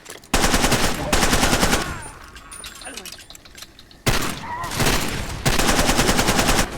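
Sustained automatic gunfire in the video game Far Cry 2, loud rapid bursts broken by a short lull of scattered shots, with voices talking over it.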